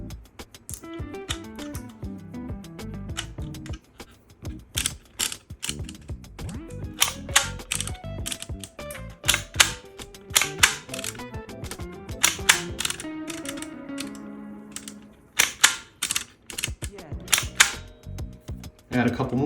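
A plastic embossing label maker clicks as its character wheel is spun to add blank spaces, giving rapid ratcheting mechanical clicks in bursts, close and fairly loud, with some talking mixed in.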